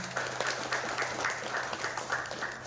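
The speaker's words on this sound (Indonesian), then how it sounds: "Boleh tepuk tangan para nenek." Guests at a Buddhist wedding blessing before an altar clap together in a steady, moderately distant patter that holds evenly throughout, with a low hum underneath.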